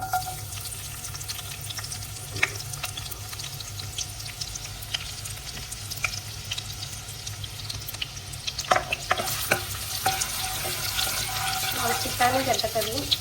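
Ginger and garlic go into hot cooking oil for a soy curry and fry with a steady, fairly quiet sizzle, with a few clinks and stirring scrapes and a brief voice at times.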